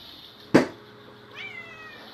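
A pet cat gives one short, fairly close meow that is clear and loud against a quiet room, with a fainter sound trailing after it.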